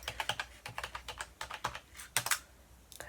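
Rapid keystrokes on a computer keyboard at a shop checkout counter, a steady run of close, light clicks in quick bursts with short pauses, quiet and with no talking over them.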